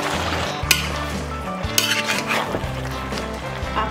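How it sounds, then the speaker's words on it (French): Leeks, parsley and mushroom sauce being stirred in a pan, with a soft steady sizzle and repeated scraping and clinks of a utensil against the pan, close and without talk. "Il suffit juste maintenant de mélanger le tout soigneusement."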